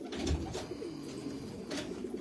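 Pigeons coo in soft, low repeated calls close by, a few murmuring phrases over a steady background hum, with no talking.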